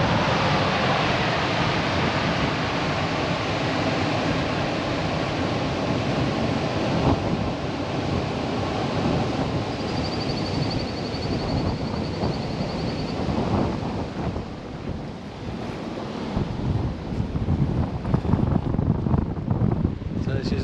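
Wind gusts across Lake Tinaroo by the Tinaroo Dam wall on the Atherton Tablelands, Australia, stirring a chop on the water; a loud, continuous roar with heavy buffeting on the microphone that never lets up.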